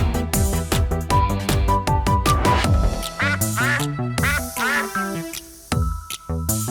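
Bright musical accompaniment with rhythmic notes while a voice sings or imitates a duck's quacking in a playful, repeated pattern.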